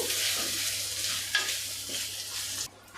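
A spoon stirs and mixes veg masala rice ingredients in a pan, giving continuous close scraping and sizzling with a few sharper scrapes, then the sound suddenly drops away near the end.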